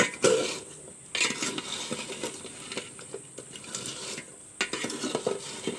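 Cooled fried gaja sweets being stirred in sugar syrup in a pan over a stove, soft scraping and clinking strokes in uneven bursts, close and fairly quiet.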